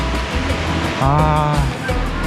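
Small, gentle ocean waves wash onto a beach in soft rolling surges, with a brief tonal sound rising partway through.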